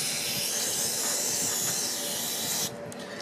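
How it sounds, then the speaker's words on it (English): An aerosol spray can blasts cleaner into the small passages of a Rochester Quadrajet 4MV carburetor during a rebuild, a steady close hiss lasting under three seconds before cutting off to quiet. "Do some spraying"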